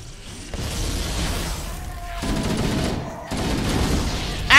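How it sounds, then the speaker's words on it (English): Grunts blowing up in Halo: Combat Evolved Anniversary, a burst of explosions and gunfire: loud, dense crackling blasts roll on without a break, dipping briefly twice, then end in a sharp, louder pop. "I forgot about the friggin' exploding grunts. They just friggin' exploded and launched right into me."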